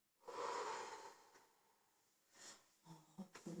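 During a guided relaxation exercise, a person releases one long, close breath out after holding it, followed by a few softer, shorter breaths and sniffs.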